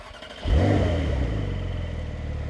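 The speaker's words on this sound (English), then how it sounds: "you hear that flat 6, 3 liter, and give it some revs" A Porsche 911 Carrera S (992.2) with a 3-liter flat-six and Sport exhaust fires up after a quiet moment, a loud sudden starter catch settling into a deep steady idle, heard close and alone.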